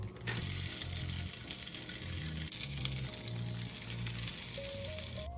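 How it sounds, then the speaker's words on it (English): A pork patty fries in a pan with a steady, dense sizzle that runs unbroken throughout, with faint crackles and a thin tonal whine rising near the end. "we're going to fry our pork patty"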